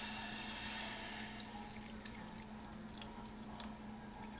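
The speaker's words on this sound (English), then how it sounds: "So I'm gonna add some water." Water is poured into a pot of turmeric powder on a stove at medium heat, a soft continuous splash that starts loud and then fades into a quiet liquid hiss under a steady low hum, with no talk.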